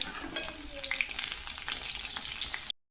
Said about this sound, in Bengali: একটা করে ভাজবো